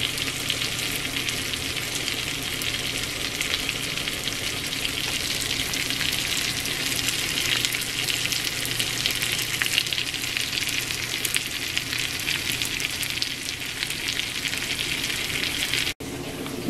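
Salmon sizzles in a hot pan, a loud, dense and continuous crackling fry held close up with no talk, ending abruptly.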